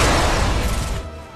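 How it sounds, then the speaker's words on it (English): Explosions in the video game Earth Defense Force: Insect Armageddon form a loud, dense wash of booming blasts and crackling bursts during a large-scale battle, continuous throughout before easing slightly at the end. "large-scale battle sequences with lots of explosions."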